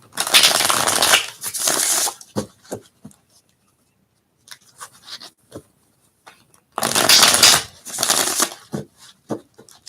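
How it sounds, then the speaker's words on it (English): Tarot cards are riffled and shuffled close by in two loud flurries, with soft taps and rustles of handling in the pause between. "A couple more final shuffles."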